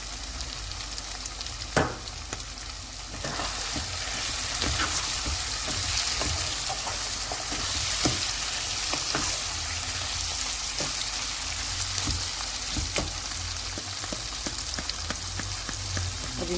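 Ginger chicken with green chillies frying in a pan, a loud continuous sizzle like rain with frequent clicks and scrapes of a spoon stirring the pieces.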